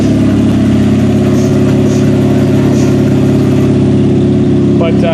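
A Pontiac G6 engine running rough after throttle body repair, a loud, steady close-up drone with uneven idle and a faint clink near the end, no talking over it.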